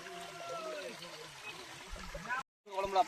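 Water is poured during outdoor cooking among friends, a close, steady trickle and gurgle that cuts off abruptly, then resumes briefly, with voices in the background.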